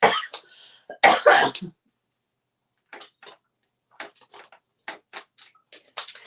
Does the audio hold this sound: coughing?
yes